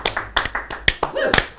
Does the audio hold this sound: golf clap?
yes